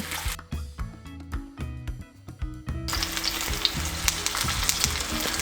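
Poppy-seed-crusted salmon fries skin side down in a pan, a dense steady sizzle rising after a stretch of music, with light spattering crackles throughout.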